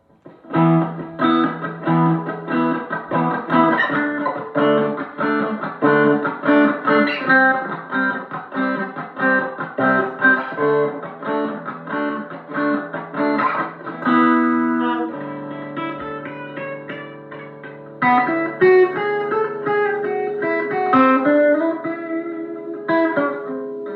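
An old electric guitar played through a crunchy distorted tone, strummed chords and picked riffs ringing out loud and close, moving into sustained single-note phrases.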